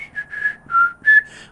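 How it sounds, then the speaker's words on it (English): A melodic whistle in short, clear phrases, rising and falling in pitch, close and fairly loud, with brief pauses between notes. "Or like whistling."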